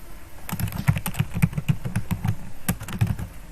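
Rapid irregular keystrokes on a computer keyboard as C code is typed in Turbo C, close and clear, clustered in quick bursts with brief gaps and no voice over them.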